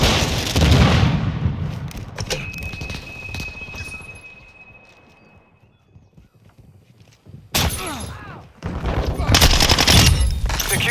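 Rapid bursts of automatic gunfire and explosions ring out in Call of Duty Modern Warfare 2 multiplayer, loud and close at the start and again near the end, with quieter game sounds and a steady electronic tone between.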